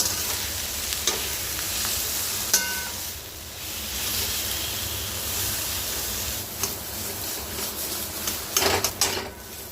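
Potato pieces frying and being stirred in hot oil with dried and green chilies and garlic, a steady close sizzle with occasional scraping stir sounds and louder crackling bursts toward the end.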